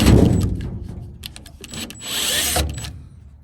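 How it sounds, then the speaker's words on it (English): A drill backs out two screws from a gas furnace housing, giving short whirring bursts with clicks and metallic handling noise close by. "Okay, so we just have our 2 screws here. Just gonna remove those."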